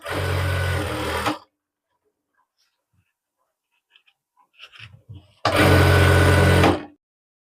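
A sewing machine stitches elastic into the waistband of a men's pajama, two loud close bursts of rapid whirring separated by a quiet pause with soft handling sounds of the fabric.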